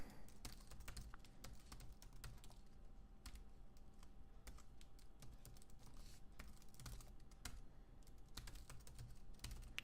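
Typing on a computer keyboard while entering an email and password into a Google account login, a quiet, irregular run of close key clicks in uneven bursts with brief pauses, no voices.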